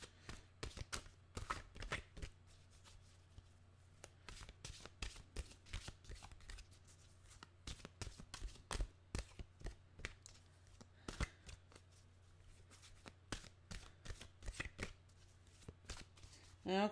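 A deck of mystical wisdom mantra cards is shuffled over and over, close and crisp, with sharp riffling bursts spaced irregularly over a faint steady hum.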